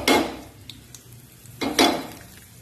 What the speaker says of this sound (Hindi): इसमें थोड़ी सी लाल मिर्च छौंक में डाल रही हूँ